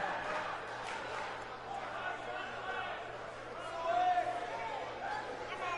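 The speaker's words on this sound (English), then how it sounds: "this crowd is ready to get this night started" A virtual wrestling arena crowd from WWE 2K19 at an NXT show, a faint, steady murmur of chatter and babble that swells briefly, with a voice talking over it.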